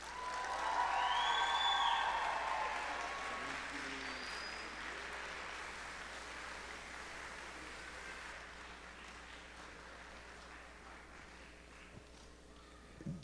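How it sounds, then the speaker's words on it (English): Concert audience applauding a band director at a Springdale High School band spring concert, a broad, fairly loud wash of clapping with a few whistles and cheers near the start that gradually fades over the rest of the clip. "Let's give a round of applause for Miss Burkett."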